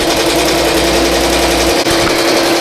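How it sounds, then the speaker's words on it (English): A BAI Mirror 1501 embroidery machine stitching a design onto a T-shirt gives a loud, steady, close mechanical whir with a fast, even stitching pulse and a brief dip near the end. "depending on what angle the machine has to go, it will slow down. So it's not a true 700 stitches per minute."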